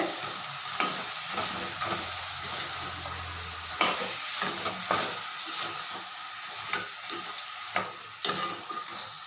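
Mutton frying in a pan with onions and tomatoes, a steady close sizzle broken by sharp scrapes and clacks of stirring at an irregular pace, with no voices.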